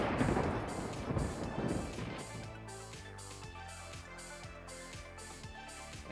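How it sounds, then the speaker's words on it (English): Thunder on an alien planet in the space exploration game Star Explorers: a low, rolling rumble swelling and fading over about two seconds, then giving way to steady, rhythmic game music. "that was definitely some thunder"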